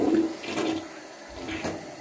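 Water rushes into a clogged toilet bowl as it refills, a close, steady gurgling wash that swells and eases over a couple of seconds, with no one speaking.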